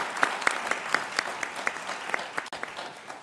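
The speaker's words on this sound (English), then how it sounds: "Let us again give a big round of applause to" Audience at a business summit applauding keynote speaker Dr. Harris, a steady burst of clapping from many hands in a hall, moderately close and continuous with no voices over it.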